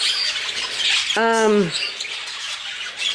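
A large, hefty bird with a big pom-pom crest gives one loud, harsh squawk that slides downward, close by, against a noisy background of other faint bird sounds.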